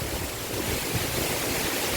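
Steady roar of rushing water at Indrani waterfall in Darjeeling, a dense, constant wash of falling water heard close and loud, without pause or voices.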